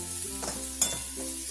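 Spiced moth bean usal (matki) with salt and goda masala being stirred in a pan, a soft steady sizzle with a few spoon scrapes, close and alone with no talk.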